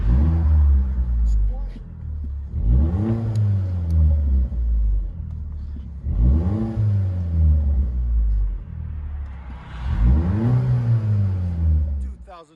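From inside the cabin, a 2012 Chevy Cruze LT turbo with straight-pipe exhaust is revved three times at steady intervals, each rise and fall booming over a droning idle.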